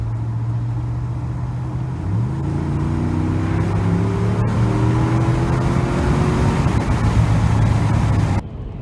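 A 2019 Ram 1500 engine revs up through its intake, the rising note climbing steadily over several seconds before holding high and cutting off, heard loud and close through an open window.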